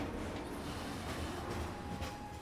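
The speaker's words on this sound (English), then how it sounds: "Miss this train and there's no telling when the next will be." A train pulls in at the Sector 5 station in the Final Fantasy VII Remake video game, a steady dense rumble and hiss of rolling cars with faint clatter, continuous throughout and no voices.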